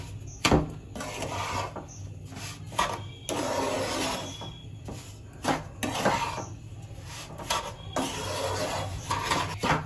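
A spoon scrapes and rubs through a semolina (suji) mixture in a pan over low flame, giving uneven bursts of gritty scraping with short pauses between strokes, close and fairly quiet.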